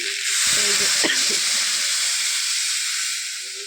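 Water poured onto hot cooked-down spices for a rohu fish curry sets off a loud steamy hiss that swells quickly, holds steady and fades slightly at the end, with a brief clatter of utensils at the start.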